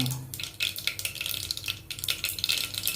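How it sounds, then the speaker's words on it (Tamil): Mustard seeds crackle and pop in hot oil in a pan, with dense irregular bursts of close sizzling and spattering throughout. "நல்லா பொறுத்தது பாருங்கள் அது நல்லா பொட்டணும் கடுகு"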